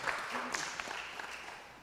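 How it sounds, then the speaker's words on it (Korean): A seminar audience applauds together, a steady wash of many hands clapping at moderate volume with no voices standing out. "우리 다 같이 박수 한번 쳐주시겠습니다"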